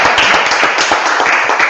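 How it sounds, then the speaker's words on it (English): An audience at a school senior presentation event clapping for Ian, a short loud burst of many hands clapping together, close and dense with no speech over it. "Let's give Ian a round of applause."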